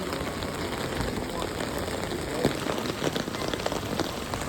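Heavy rain falling outdoors, a dense, steady hiss of drops hitting surfaces, loud and continuous, with a few sharper spatters near the middle.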